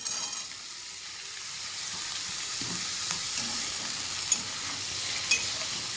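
Carrots and beans fry in a pan in a steady, moderate sizzle, with faint stirring scrapes and a couple of soft clinks near the end.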